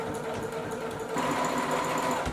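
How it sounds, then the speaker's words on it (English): Sewing machine stitching red thread through a dress fabric, a steady rapid mechanical whir that grows louder and denser midway and runs continuously, with no talking. "Sewing intensifies."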